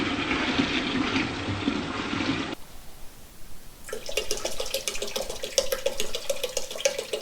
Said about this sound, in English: they suggest pouring this liquid into it, diluted, and leave it for 16 hours